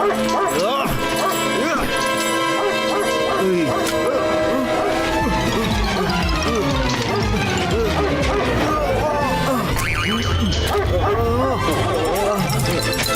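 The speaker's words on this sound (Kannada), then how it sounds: "ಆಗ್ಲಿಂದ ಬೊಗಳ್ತಾನೆ ಇದ್ಯಾ." Repeated loud dog barks and yips ring out close by, layered over music and voices throughout.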